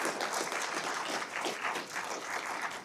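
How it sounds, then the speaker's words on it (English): Steady applause from an audience honoring environmental services staff at a zero waste symposium, a dense wash of clapping that holds at an even level from start to finish. "let's give them a round of applause"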